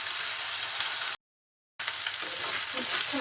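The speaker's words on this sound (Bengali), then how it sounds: "তেলের সাথে আমি মশলাটা একটু কষিয়ে নিব যাতে মশলার কোনো কাঁচা গন্ধ না থাকে।" Garlic and ginger paste sauté in oil for a prawn, pointed gourd and potato curry, giving a steady close sizzle with soft stirring scrapes. The sound drops out in a brief gap, then the frying resumes.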